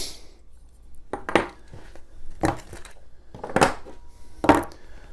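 Copper plumbing pipe and fittings being handled and slipped together, giving four or five sharp metallic clinks and knocks spaced about a second apart, close up with no talking.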